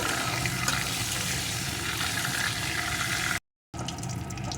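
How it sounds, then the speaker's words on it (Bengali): Dried red chilli frying in hot oil, cooked in preparing a crab kosha curry; a steady broadband sizzle runs close and fairly loud, broken by a brief silent gap before the frying resumes. "এই তেলের ভিতরে দিয়ে দেবো একটা শুকনো লঙ্কা লঙ্কাটাকে একটু ভেজে নেব"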